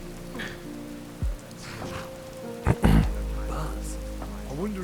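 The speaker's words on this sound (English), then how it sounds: "Wait out this rain." Steady rainfall in the video game Skyrim, a continuous patter under game music and a few brief thumps, with people talking briefly over it.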